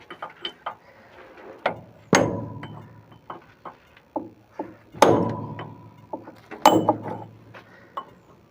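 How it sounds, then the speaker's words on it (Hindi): Ratchet tightening bolts on the hydraulic lift arm of a Powertrac Euro 45 Plus tractor, a series of sharp metallic clicks and clanks close up, arriving in irregular bursts with short pauses between strokes. "और दोनों साइड इसी तरह से लॉक कर लेंगे बोल्टों को"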